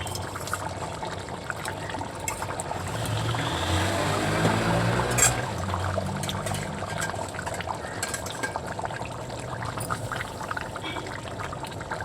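Goat brain curry simmers in a covered pot, giving a steady close bubbling and hissing that swells briefly midway and then settles into a continuous low boil, with no voices.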